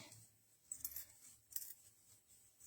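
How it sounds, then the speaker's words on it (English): Quiet snipping of scissors through thick felt, a couple of crisp cuts close by amid soft rustling. "cutting this felt requires some scissors that really have a little bit of muscle in there"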